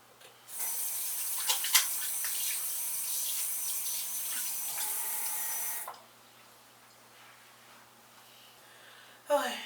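Running water pours steadily while an aloe vera hair mask is rinsed out, a bright hissing spray lasting several seconds before stopping, then near quiet and a short burst of noise at the end.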